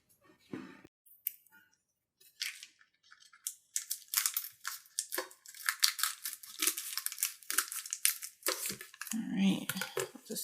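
Someone opens a package of Fimo Air modeling clay, producing a series of close, crisp crinkling and tearing bursts of plastic wrapping, with faint talk in the background early on.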